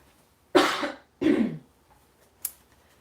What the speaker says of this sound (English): I'm gonna have to clear my throat.